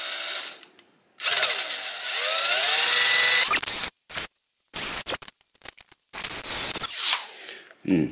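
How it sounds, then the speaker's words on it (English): A power drill drilling out plastic on a 1985 Honda XL600R whirs in a few bursts, steady then cutting out, with short pauses and a higher grinding whine near the end. "I'm going to try to take a drill and drill this out"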